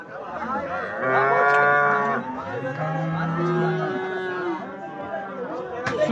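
Cattle at a live animal market in Çubuk, Ankara, lowing in long, loud overlapping moos close by, with a crowd chattering in the background.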